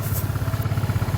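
An old, cheap motorcycle engine idles with a steady low throb and light mechanical clatter, running close and fairly loud, its rhythmic pulse holding evenly throughout.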